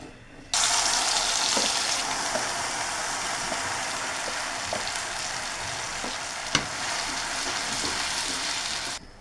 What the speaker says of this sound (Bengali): মেথি ভাজতে হবে।